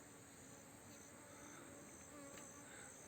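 Honey bees buzzing around village hives kept inside the walls of houses, a steady, dense hum with no pauses, close and continuous, no voices over it.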